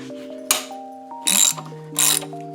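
A ratchet wrench clicking as it loosens Allen bolts on the rear fender of a 2025 Honda Rebel 1100 SE motorcycle. Three short, close bursts of clicking are separated by brief pauses, with a faint tonal background.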